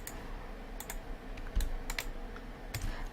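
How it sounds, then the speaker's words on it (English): Computer keyboard keys pressed while modeling in Blender: a few crisp, separate clicks, some in quick pairs, over a low steady background hum. "left mouse button, button K and button Z so you can cut through"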